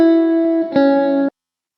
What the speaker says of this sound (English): If I remove the plugin, this is what the guitar sounds like.